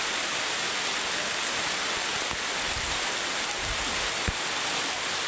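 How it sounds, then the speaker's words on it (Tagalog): Heavy rain pours in a continuous dense hiss outdoors, with a few low thumps and rustles breaking through near the end. "Lakas ng ulan."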